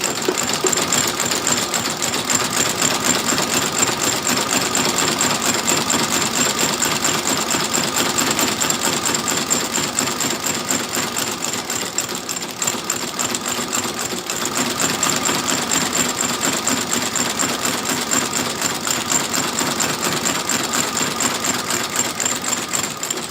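A sewing machine stitches new soles onto boots, running loudly and continuously with a fast mechanical chatter and slight surges in pace, with no voices over it.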